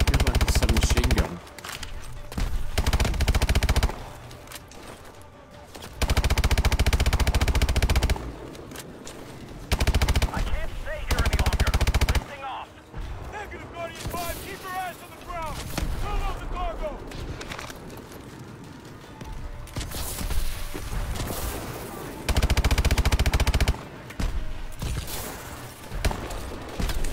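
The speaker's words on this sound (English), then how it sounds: "Feels like a submachine gun." Submachine gun fire in Call of Duty: Advanced Warfare on a snow level, loud rapid bursts broken by short gaps, with someone talking over parts of the action.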